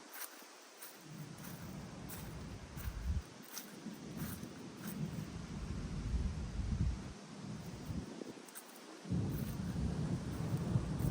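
Deep rolling thunder from a thunderstorm in Germany, long low rumbles swelling and fading over a steady hiss of rain and wind, with a few brief quiet gaps between peals.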